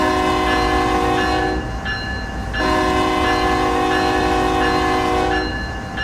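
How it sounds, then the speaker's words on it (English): Locomotive horn in Train Sim World 3 on the San Bernardino to Victorville route, a loud multi-tone blast repeated in long sounds with brief breaks, over a steady rumbling engine bed. "the only way for me to know if it's installed is to honk the horn"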